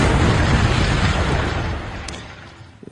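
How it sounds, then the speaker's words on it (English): Explosion sound effects in a radio comedy show's song parody: a loud, dense rumbling blast that fills the start and slowly decays toward quiet. "There's some explosions."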